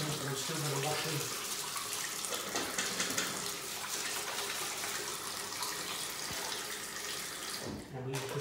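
A tap runs steadily into a sink while hands are washed in a bathroom, a continuous loud gush of water that briefly cuts off near the end.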